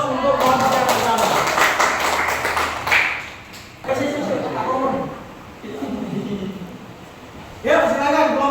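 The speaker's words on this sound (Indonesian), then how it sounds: "Kasih aplaus untuk kelompok yang pertama" Applause for the first student group in a high school Islamic religious education class: a burst of clapping over the first few seconds, mixed with voices that continue afterward.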